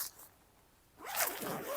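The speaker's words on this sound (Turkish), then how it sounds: "şöyle akıcı olarak fermuarı kapattığınızda orijinal halini alıyor" A tent zipper on a High Peak Amora 5 tent is pulled closed in one smooth, continuous run, loud and close, following a brief quiet pause with no talking.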